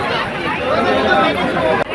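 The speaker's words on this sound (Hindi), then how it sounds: "आज बेहद ज़्यादा भीड़ है" A dense crowd of pilgrims waits in line at Omkareshwar temple, filling the air with loud, continuous chatter and babble from many voices close by, with one brief dip near the end.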